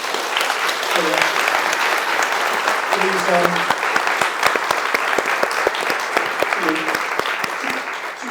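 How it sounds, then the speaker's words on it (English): An audience at an early-years education talk on Reggio Emilia claps, with dense, sustained applause from a large hall and a few voices calling out under it. "can we just get a big round of applause, please?"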